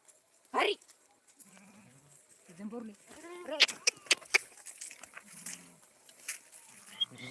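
Goats and sheep bleat several times, a few separate calls close by over a farm, with people talking throughout.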